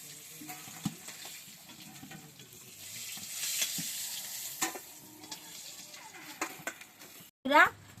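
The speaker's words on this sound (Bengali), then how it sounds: "মাছটা এখন ভাজা হয়ে গেছে" Steady oil sizzling from frying fish, with occasional scraping and stirring clatter, then a short burst of a bright, squeaky clink near the end.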